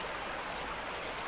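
Water pumped and poured for gold washing in the mining video game Gold Rush: The Game, a steady broadband rushing stream with no voices.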